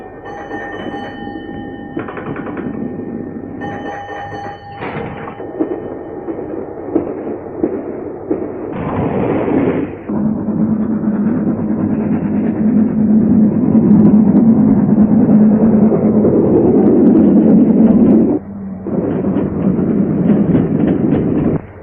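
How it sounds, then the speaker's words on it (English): Train on rails in a 1938 railway safety film picks up speed, rumbling loudly and continuously with rhythmic wheel clatter, a few whistle-like tones early on, then a heavier, denser roll as it accelerates. "The train gathers speed"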